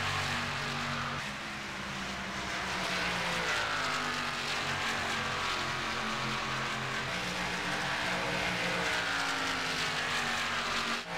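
Race car engines roar steadily in a K&N Series racing game at Michigan, a continuous loud, layered whine with shifting pitch that holds throughout without a break.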